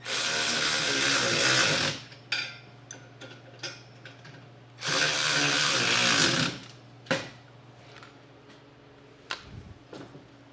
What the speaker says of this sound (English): I'm thinking I'm going to go ahead and tighten a couple of these down, or snug them anyway.